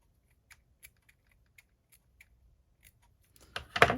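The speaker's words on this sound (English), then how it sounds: "Can cut these pieces off like give it a little trim" Scissors trimming small paper pieces, a series of soft, sparse snips spaced apart before a louder rustling burst of paper handling at the end.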